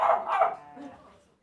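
Dogs bark at a cafe in Bristol, two quick close barks followed by a softer trailing yelp, loud and brief.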